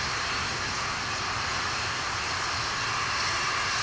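An Atlas V rocket climbing after liftoff, heard as a continuous broad, roaring rumble that holds steady and loud throughout, with no pauses or voices over it.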